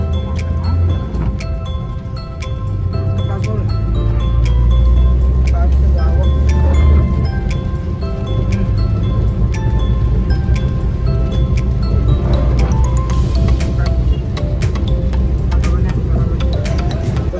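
A steady low engine and road rumble fills the cabin of a moving car as it drives along, continuous and fairly loud, with voices talking over it at times.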